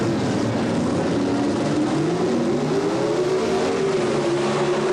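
Gas coupe and sedan drag race cars launching at the 1977 NHRA Springnationals, a continuous loud engine roar rising in pitch as they accelerate away, with no talk.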